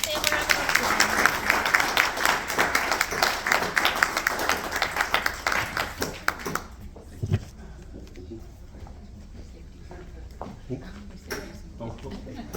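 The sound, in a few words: audience applause for presenter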